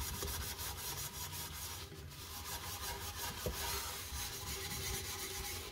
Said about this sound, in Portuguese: E agora eu vou começar a esfregar